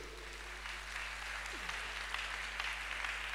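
A church congregation applauding during a Sunday service, a soft, steady patter of clapping from many hands over a low hum, with no talking.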